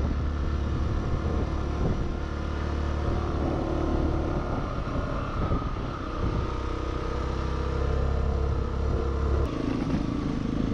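A motorcycle climbing a mountain trail toward the summit of Cerro Champaquí in Córdoba, its engine droning loud and close throughout with a steady low rumble and shifting pitch as it labors uphill.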